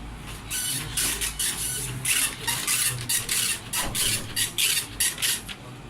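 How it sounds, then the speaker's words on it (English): A fire alarm panel's small printer chatters and buzzes in steady rapid bursts, a continuous mechanical printing noise close by, with no voices. "This one always printing."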